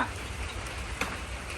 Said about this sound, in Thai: ฝนตก มาขึ้นโคตรเยอะเนี่ย